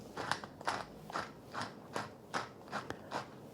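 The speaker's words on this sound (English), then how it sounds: "we're going to grind about a 1/4 teaspoon finely ground black pepper" Black pepper being ground in a hand pepper grinder over a beef sauce, about seven quick crunchy ratcheting twists in an even rhythm, close and fairly quiet.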